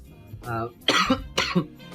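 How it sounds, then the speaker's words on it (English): A short vocal sound followed by two harsh, dry coughs from a person recovering from COVID-19, close and fairly loud, separated by brief pauses. "It's like a dry cough."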